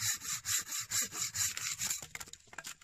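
Silky BigBoy 2000 handsaw cutting through wood in about eight even, rhythmic full strokes, each a loud rasping pull, close by, then a few shorter, choppier strokes.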